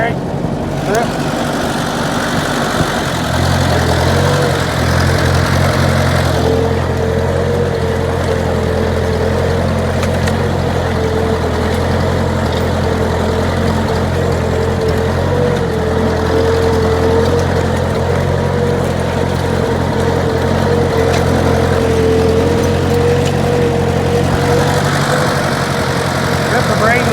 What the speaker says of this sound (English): Doing a little bit of slipping once in a while with the tractor.